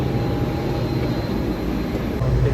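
Airplane engines drone steadily while passengers board the plane by the stairs, a constant low rumble with a faint tonal whine, fairly loud and unbroken.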